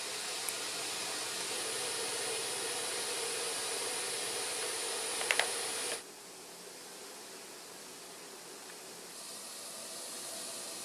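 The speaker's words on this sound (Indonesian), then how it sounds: "airnya kelihatan telah mendidih dengan uap yang banyak, dengan memakai api besar ya, kelihatan uapnya sangat banyak" A steamer pot of boiling water on a high flame, used for steaming sponge cake batter, gives a steady, loud hiss of escaping steam that drops abruptly to a quieter rush partway through, then swells slightly near the end.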